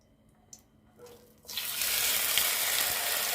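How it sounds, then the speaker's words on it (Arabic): Chicken breasts drop into a pan of hot ghee with a little oil. After a few faint clicks and knocks, a loud, steady hissing sizzle bursts in and keeps going, close and alone with no talk. "بدأت احط الفراخ زي ما انتوا سامعين في الطاسة كده"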